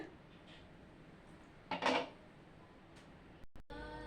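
A pot lid lifts off a pot of spicy aar fish curry on a gas stove just turned off, giving one short, soft metallic clatter in an otherwise quiet kitchen.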